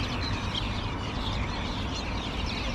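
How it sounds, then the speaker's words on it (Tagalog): Many birds chirping noisily together as a dense, steady wash of calls with no other sound, fairly faint. "Pakinggan yung mga ibon ang iingay nila"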